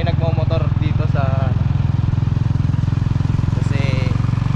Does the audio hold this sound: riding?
yes